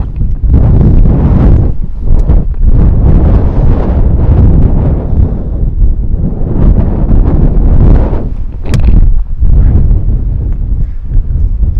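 Strong gusts batter the microphone on an open golf course, heavy, roaring buffets that swell and drop in uneven surges throughout, loud and close with no other sounds standing out.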